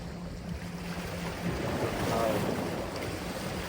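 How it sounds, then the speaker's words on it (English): Steady, blustery wind roars across an open microphone on a harbour breakwater in Fremantle, Perth, with a broad rushing hiss that swells briefly near the middle, over a faint low rumble. "it's a windy place to live."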